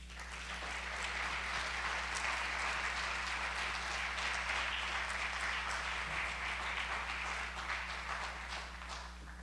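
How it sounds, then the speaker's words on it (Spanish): An audience at a lecture claps steadily, a dense, even wash of applause that holds at the same level throughout. "pido para todos ustedes un fuerte aplauso"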